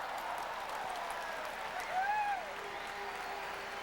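Spectators at the 2005 World Men's Curling Championship, Canada versus New Zealand, applaud a clean takeout: faint, distant clapping with a brief rising whistle-like tone in the arena.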